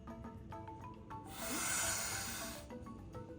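Boa constrictor giving a loud, sustained defensive hiss of about a second, a broad breathy rush standing out over low background rumble and faint knocking.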